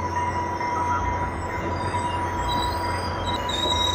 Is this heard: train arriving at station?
yes